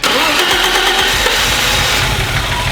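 A BMW E34 5 Series barn find engine cranks and catches, then runs loud and uneven on three cylinders with a rough, lumpy idle, close up and with no talking.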